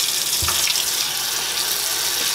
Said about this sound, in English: So you want to rinse them until the water runs clear.